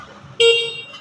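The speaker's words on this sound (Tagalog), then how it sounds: "Malakas yung busina niya." A new 2024 Monarch Arrow 150 motorcycle sounds its horn in a single loud, bright beep that starts abruptly and fades over about half a second after a quiet moment.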